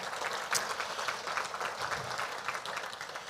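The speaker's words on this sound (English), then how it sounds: "So round of applause for Josh and his team." Audience applause for the presenting sponsor at a legislative update event, steady dense clapping from a crowd throughout, fairly distant and moderate in level.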